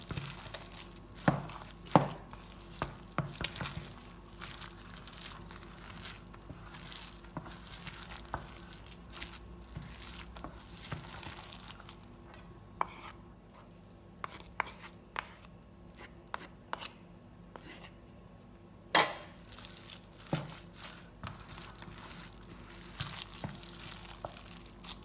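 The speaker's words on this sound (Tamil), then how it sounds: "இப்போ இதுக்குள்ளே போட்டு வடிவாக மிக்ஸ் பண்ணணும்" Cooked rice is mixed with curd for thayir saadham, producing intermittent close scraping and stirring clicks of a spoon against a vessel, with quiet pauses between bursts.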